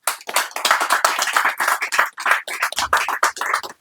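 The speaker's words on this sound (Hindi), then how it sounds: "जोरदार तालियां होनी चाहिए एक बार।" Audience applause at a Hindi-Urdu ghazal mushaira honoring poet Jaydeep Soni: a dense run of close, crisp handclaps lasting a few seconds with a brief dip near the end, no talking.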